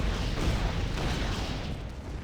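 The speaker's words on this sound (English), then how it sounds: "Blast cannon is kind of a rapid fire attack" Engineer's blast cannon in Torchlight 2 unloads a rapid-fire attack, a dense, continuous stream of booming blasts with a heavy low rumble that stays loud, slowly tapering near the end.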